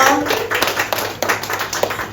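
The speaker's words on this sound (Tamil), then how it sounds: "அந்த ஸ்டார் ரேட்டிங்ஸ்க்கு ஒரு பலத்த கைத்தட்டல் நம்மளோட கமலாதான் பாட்டிக்காக கொடுக்கலாங்களா" Clapping from an audience at a women's day celebration honouring an elderly woman who sells idli for one rupee, a dense, steady patter of many hands filling the room with no voices over it.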